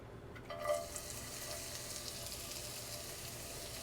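Chopped onions drop into about a tablespoon of hot vegetable oil in a skillet over medium heat, setting off a soft, steady sizzle that starts abruptly and then holds as a quiet, even hiss.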